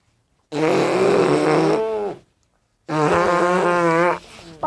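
Two long, loud buzzy fart sound effects played back one after the other, each lasting over a second with a short silent gap between, close and clear with no talking.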